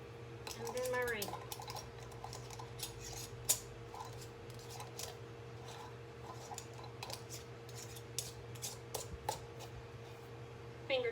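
A metal ring and lid go onto a glass canning jar of corn before pressure canning, heard as faint, scattered metallic clicks, clinks and scrapes over a low steady hum, with a brief voice early on.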